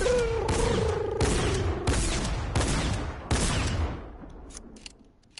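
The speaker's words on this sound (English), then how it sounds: "This is the new shotgun I'm shooting." New shotgun in Fortnite fired five times in steady succession, each blast loud and close with a sharp crack and a short decay, then quieter clicks as the firing stops.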